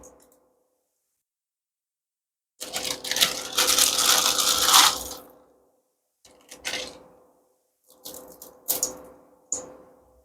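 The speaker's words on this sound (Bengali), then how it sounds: "এভাবে মাঝখান থেকে ভেঙে সবগুলো প্যাক আমি দিয়ে দিচ্ছি" Dry packs of instant noodles are snapped in the middle and dropped into a pot, first a long crunchy crushing burst, then several shorter cracking snaps separated by silence, close and clear.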